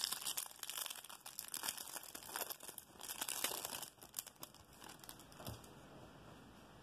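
The plastic wrapper of a Yu-Gi-Oh-style trading card promo pack crinkles and tears open up close, with a busy burst of crackling that settles into softer rustling.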